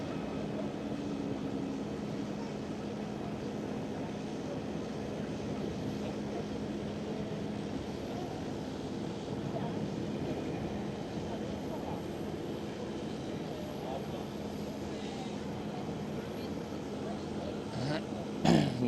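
A Lufthansa Airbus A320 airliner at Schiphol Amsterdam, heard as a steady, fairly distant jet engine roar with a low drone that holds evenly throughout, alone without talk.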